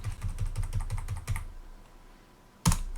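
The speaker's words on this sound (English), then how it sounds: "so I'm going to type new." Fast, regular clacking of keys on a Commodore 64 computer keyboard, about eight close, crisp strokes in a steady run, then a pause before one louder, sharper key press near the end.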